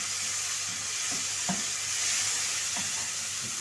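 Onions fry in a pan with a steady, bright sizzle, broken by a few soft knocks and scrapes as they are stirred.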